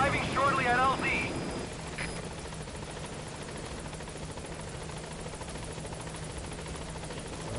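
A helicopter in Metal Gear Solid 5: The Phantom Pain arrives at a landing zone with a steady rotor drone that holds for several seconds. A voice speaks briefly at the start, over a constant low rumble.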